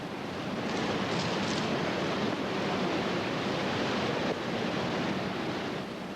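Rushing river water above a waterfall makes a loud, steady broadband roar, continuous and close, with faint high chirps briefly at the start and no talking.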